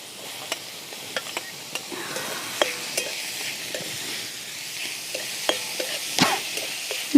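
Onion, tomato, garlic and chili fry in a pan at an outdoor field-side cooking spot, giving a steady close sizzle broken by sharp clicks and scrapes of stirring, with no voices.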